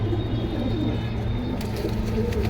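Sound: Lal Patti military pigeons cooing

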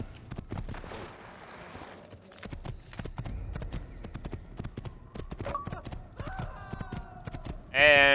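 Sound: horse hooves clip-clopping in video game Assassin's Creed

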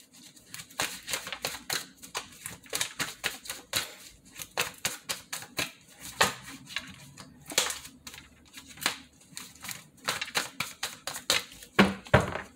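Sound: shuffling tarot cards

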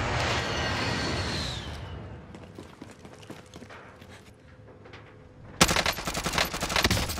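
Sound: gunshots in a shooter video game

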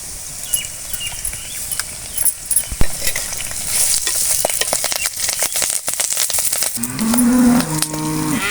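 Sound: garlic and curry leaves frying in oil

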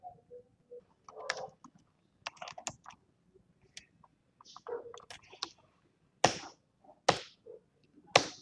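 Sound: typing on a computer keyboard

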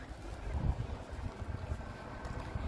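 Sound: strong cold wind while walking

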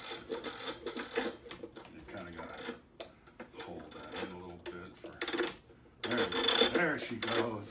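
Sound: Mythicall camera mechanism running, like an unoiled machine

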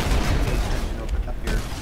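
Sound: Cyclone weapon firing in Halo: Custom Edition video game

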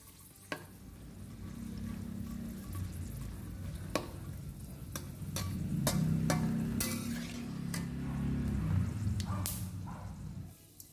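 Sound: dried chilies frying in oil

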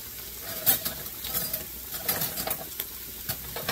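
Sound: beans being stirred and starting to boil in pot

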